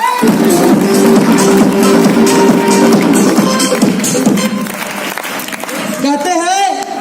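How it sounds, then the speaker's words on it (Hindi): Audience applause at a direct-selling training seminar, a dense, steady roar of clapping lasting several seconds before thinning out, with some talk mixed in near the end. "एक बार अंकल के लिए तालियां हो जाए"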